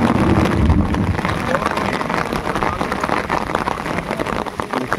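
Rain falls steadily over a Sundarban river during cast-net fishing from a boat, a dense patter with wind buffeting the microphone and a voice talking over it.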